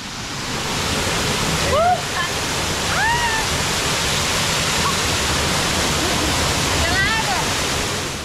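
Steady broadband roar of a waterfall deep in the Colombian rainforest, loud and constant throughout, with a few brief bird-like whistles rising over it.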